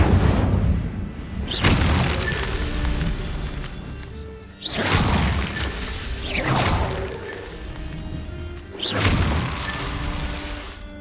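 Incendio fire spell cast in Hogwarts Legacy, three loud whooshing bursts of flame with booming impacts, each swelling and fading over a few seconds.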